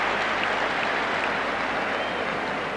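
A stadium crowd at a 1984 Ireland versus USSR football match gives a rousing round of applause, a dense, steady wash of clapping that carries on unbroken throughout.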